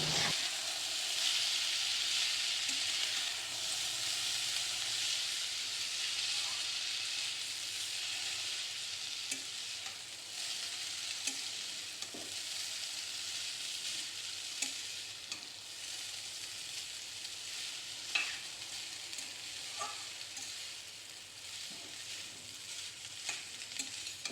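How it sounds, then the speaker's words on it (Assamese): Boiled chow noodles stir-frying in a kadai: a continuous soft sizzle with repeated scraping stirring strokes, steady and close, with no talking. "এতিয়া ভালদৰে লৰাই কেইমিনিটমানৰ কাৰণে ভাজি ল'ম"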